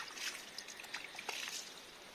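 Rainwater trickles and flows out of the ground during the rainy season, a faint, soft, uneven dribble with a few small splashes and no voices.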